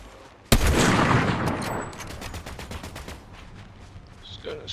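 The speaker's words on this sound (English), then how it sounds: "We're still shooting that guy on the hill." Gunfire from a player being shot at in Fortnite Chapter 5: a sharp loud shot, then a rapid burst of repeated shots that fades into scattered quieter fire.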